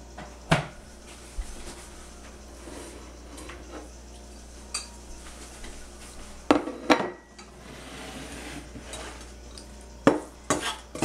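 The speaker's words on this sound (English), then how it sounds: "So, give another quick stir" Stirring in a pot with a utensil: scattered clinks and scrapes against the metal, a few sharp knocks around the middle and end over a quiet background, with no voices.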